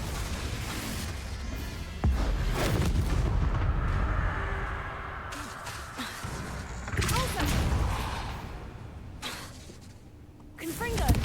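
Repeated Confringo blasting-curse explosions in Hogwarts Legacy boom and crash loudly in bursts, with booming impacts and crackling debris, while a voice talks over the action.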